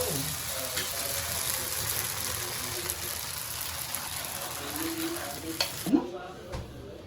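A sponge dosa cooks with ghee on a hot pan, giving a low steady sizzle with soft scraping as it is flipped, and a few louder knocks and clatters near the end.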